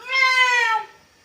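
A single clear cat meow, close and fairly loud, rising then falling over about a second, alone with no other sound.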